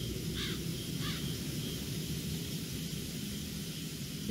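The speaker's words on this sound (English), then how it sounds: "See, now I hear creepy birds." Crows cawing in the video game Everlasting Summer, two hoarse caws early on over a constant hissing, rumbling ambient drone, distant and eerie with no voices.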